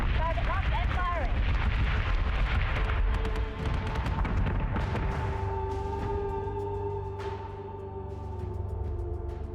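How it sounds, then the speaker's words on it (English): Starship weapons fire in the space combat game Battlestar Galactica: Deadlock, a dense roar of booming, explosive blasts at first, then settling into a steadier hum with scattered impacts under faint talk. "Target locked and firing."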